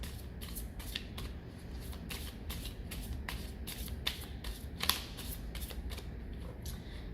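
Tarot cards being shuffled in a steady run of crisp riffling bursts over a low background hum, with a couple of sharper snaps near the end and no talking.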